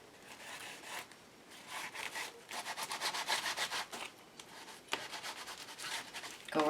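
A Timber Brown StazOn ink pad is rubbed along the edge of a paper page, making faint, quick scratchy swipes in uneven bursts, close up and quiet, with a brief pause midway.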